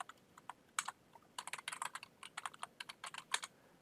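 Fingers tap out a router configuration command on a computer keyboard, a quick, irregular run of close, crisp keystrokes with short pauses between bursts.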